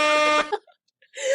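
A loud, harsh buzzer blares for about half a second, then cuts off into near silence before another brassy burst begins.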